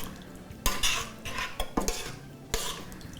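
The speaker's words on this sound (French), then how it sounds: "Mélanger encore." A utensil stirs a mixture in a bowl, producing scraping, clinking strokes in irregular bursts, close and fairly loud with no talking.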